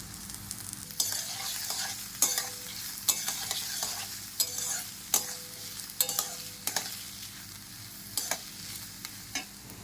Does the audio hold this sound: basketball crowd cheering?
no